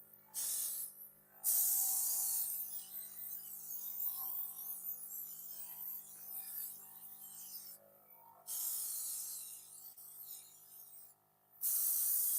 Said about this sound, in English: go ahead and spray